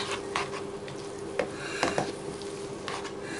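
Garlic stirred round a pan makes a soft, steady sizzle, with a few sharp utensil scrapes and knocks against the metal. It is close by and brief, and no one speaks.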